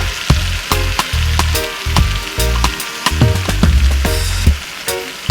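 Butter and flour roux sizzling in a pan while cooking down, a steady close frying hiss broken by repeated clicks and scrapes of stirring, with no talk.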